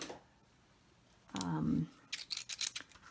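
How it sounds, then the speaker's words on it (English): Scrapbooking craft scissors snip through paper in a quick burst of short crisp cuts after a softer scraping rustle, close and fairly quiet with no talking. "fancy crafting scissors here, the scrapbooking scissors."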